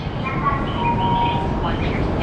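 A Shinkansen high-speed train, the coupled Komachi and Hayabusa sets, produces a loud steady rumble and roar with faint whining tones, continuous and close throughout.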